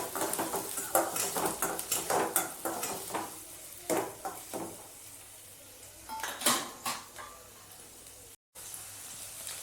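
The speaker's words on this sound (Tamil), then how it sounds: "இப்போது வெங்காயம் நல்லா வதங்கட்டும்." Onions and green chillies stirred in a pot for Kerala-style mutton stew, with a soft sizzle under repeated scraping clinks of a spoon against the metal pan, close and moderately quiet.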